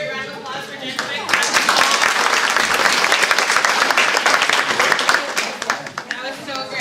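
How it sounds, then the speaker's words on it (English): An audience at a classroom management talk breaks into a full, loud round of applause for the speaker, dense clapping that swells after a brief lead-in and holds steady, with some voices underneath. "Alright, let's have another really great round of applause for Jen Quick."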